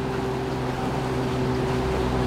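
Angling boat out on open water with its engine running steadily, a loud continuous droning hum with tonal whine as the motor pushes the stern around, wind and water wash underneath, no talking.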